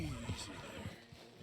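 A horse whinnies briefly amid a Red Dead Redemption 2 game soundscape, with a voice speaking over the top.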